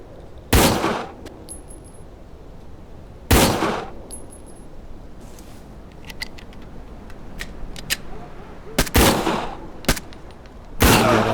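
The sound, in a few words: gunfire in video game Door Kickers 2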